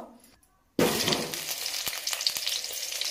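Potatoes hit hot oil in a home kitchen pan and burst into a loud, bright sizzle after a quiet moment, then keep crackling steadily with occasional sharp pops and scrapes.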